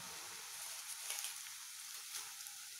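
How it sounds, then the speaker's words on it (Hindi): Flattened rice (poha) frying in a little oil over low heat, a steady faint crackling hiss with small popping bursts throughout. "थोड़ा थोड़ा करके पोहे हम फ्राई कर लेते हैं"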